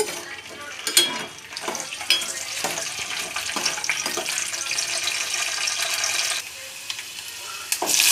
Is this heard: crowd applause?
no